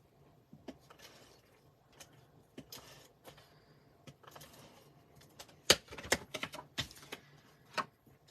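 Paper snips trimming the bottom off a piece of card paper for the inside of a three-panel greeting card, a quiet series of short crisp cuts and clicks, faint and close, with no talking.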